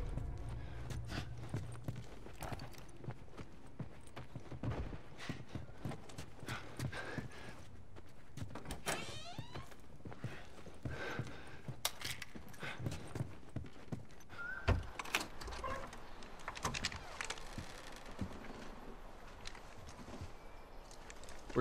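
Horses walking in The Last of Us, steady clip-clop of hooves on ground with occasional snorts, fairly faint, mixed with game ambience and scattered incidental sounds.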